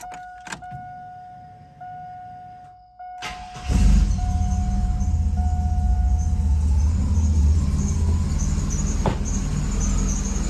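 A car engine idles steadily with a worn serpentine belt after a tensioner, pulley and bearing swap, a constant rough drone and faint high whine running loud and continuous after a brief quiet start.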